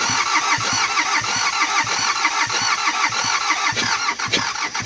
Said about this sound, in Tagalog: narinig nyo naman na gusto talagang umandar yung engine kaso ayaw yan nang tumuloy